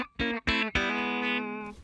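Clean electric guitar through the bridge humbucker of an EART EGLP 610 into an amp modeled on a Fender Twin, no reverb: two short plucked notes followed by a ringing sustained chord that fades out.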